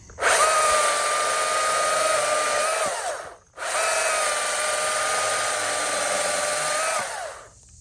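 An electric chainsaw runs in the woods in two long bursts of about three seconds each, a loud high whine with a brief pause between, close and unaccompanied by talk.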